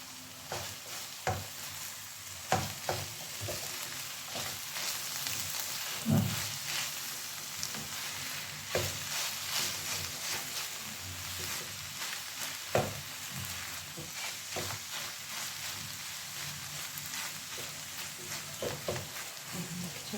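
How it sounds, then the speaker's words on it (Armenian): Food fries in a covered pan with a steady, soft sizzle and hiss. Faint scattered clicks and pops come through, with no one talking. "Դրանը կփակենք, թող տապակվի։"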